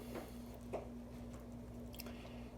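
A butter and brown sugar candy mixture is stirred in a pot, giving soft, wet squishing sounds over a steady low hum, with no talking.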